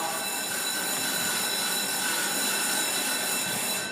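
An Atami-bound train departs platform 12 at Shinagawa Station in Japan, rumbling steadily nearby with a constant high metallic whine and squeal from the wheels, a continuous loud roar with no voices.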